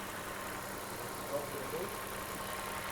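A high-mileage Volvo XC90 with a faulty PCV diaphragm and lean fuel codes idles steadily, a low, even engine hum with a faint rough undertone held throughout.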